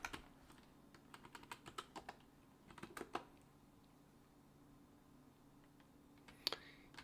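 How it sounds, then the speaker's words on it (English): Bursts of computer keyboard keystrokes, irregular quick clicks clustered in the first three seconds, then a pause before a final couple of taps, close and fairly quiet in a still room. "Just start typing, I guess."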